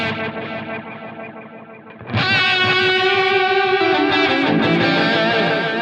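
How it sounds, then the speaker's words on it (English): Electric guitar run through a Helix Cosmos delay set for a reverb-like wash, starting with a fading echoing tail before a loud new chord rings out and smears into dense, sustained repeats. "Now we can also combine 1 and 3 to kind of get some of that reverb type effect with the normal quarter note we set."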